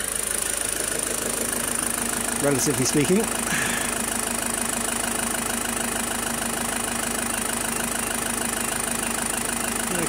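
A 2001 Peugeot Boxer van's 2.8 HDI diesel engine idles with a steady, low hum throughout, with a brief burst of a voice speaking partway through.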